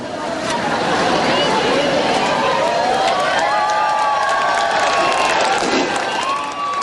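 A large crowd at a San Juan campaign rally cheers and shouts loudly and continuously as former President Joseph Estrada appears, with dense babble and whoops filling the scene.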